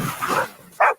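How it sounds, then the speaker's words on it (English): A dog gives a single sharp, close bark at the end, after a short stretch of softer muffled sound. "Dog."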